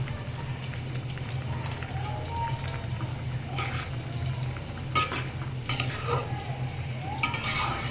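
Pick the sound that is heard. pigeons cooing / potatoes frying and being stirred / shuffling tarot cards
potatoes frying and being stirred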